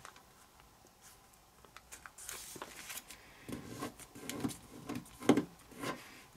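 Paper is folded by hand for an origami scorpion, with soft rubbing, creasing and crinkling sounds heard up close and growing busier toward the end.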